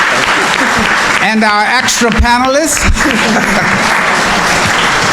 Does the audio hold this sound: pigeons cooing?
no